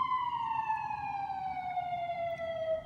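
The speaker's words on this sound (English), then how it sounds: "There's a siren here." A single sustained siren tone glides gradually lower, heard from a distance over a faint background hum.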